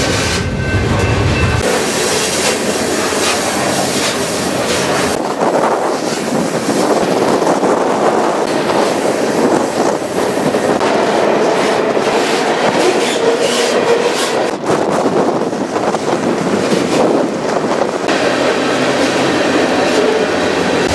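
A passenger train on the Houston to Tulsa line rolls along loudly, heard from inside with steady rumble, clickety-clack rail noise and wind buffeting over the whole stretch.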